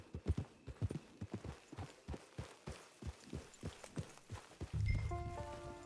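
Horse hooves clip-clopping at a steady walking pace in the Red Dead Online video game, a clear rhythmic series of soft thuds, joined near the end by a low rumble and faint tonal chimes.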